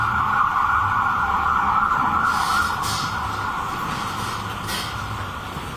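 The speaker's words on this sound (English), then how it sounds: "wait until the sirens pass" Emergency sirens wail steadily and loudly with road noise underneath, slowly fading a little as they move past.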